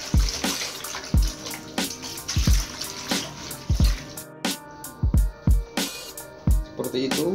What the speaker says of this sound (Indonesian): Kita siram, kita cuci bersih dengan air.